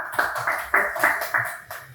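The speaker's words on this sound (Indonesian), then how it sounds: "Boleh beri tepuk tangan yang meriah untuk kelompok kreatif." Students in a classroom clap for a performing group, a short run of steady, close hand claps in a quick even rhythm.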